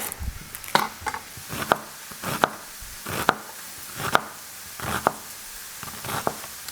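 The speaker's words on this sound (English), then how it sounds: "you can chop up 1 whole onion" A knife chops a whole onion on a cutting board while preparing slow-cooker pasta fagioli. Close, crisp chops fall in a steady rhythm, roughly ten strikes, with no talk.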